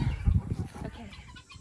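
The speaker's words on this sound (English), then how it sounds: "come see all these chickens and turkeys" Chickens clucking close by in a short burst of low, murmuring farmyard sounds, with turkeys also on the farm.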